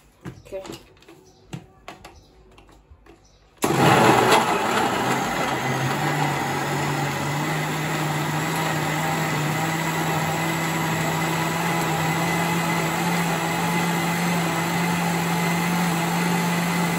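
Kitchen blender whirring at a constant high speed as it blends mango, banana and milk into a smoothie, starting abruptly after a few seconds of quiet handling and running loudly and steadily to the end.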